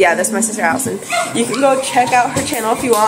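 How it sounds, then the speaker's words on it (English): Dogs bark and yip in a household kitchen setting, short repeated barks mixed in under continuous nearby talking by two girls. "sorry about the dogs"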